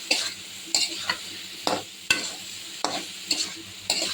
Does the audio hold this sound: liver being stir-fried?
yes